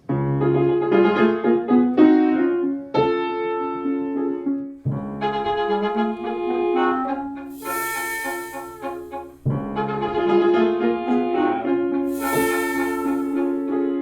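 Orchestral accompaniment plays sustained chords in three swelling phrases, warm and full, with light cymbal shimmer near the ends and no voice.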